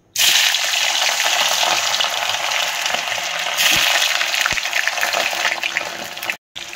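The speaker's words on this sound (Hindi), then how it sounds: "तो ये पनीर की छाणीदे।" Paneer cubes dropped into hot oil set off a loud, dense sizzle that holds steady for several seconds with a couple of soft knocks, then cuts off briefly near the end.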